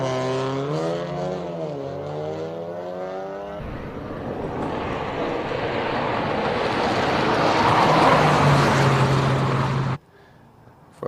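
A 3-cylinder car races up the Simola hillclimb, its engine a loud, rising roar that builds steadily for several seconds after a voice speaks over the start, then cuts off abruptly.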